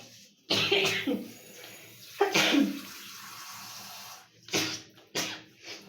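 Someone sneezes and coughs while cooking with spice masala, two loud close bursts near the start, then further short throat sounds later over faint running water.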